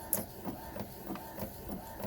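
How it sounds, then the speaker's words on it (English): Barcode label printer printing a tackle shop package label, a steady mechanical whir with regular soft thumping pulses about every quarter second, close and continuous with no talk. "I wouldn't call this the fastest printer in the world"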